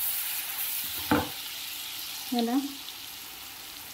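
Tomatoes with turmeric and salt frying in a pan for Kolhapuri-style chutney, a steady soft sizzle running throughout, with a brief stir or clatter near the start and a short spoken word partway through.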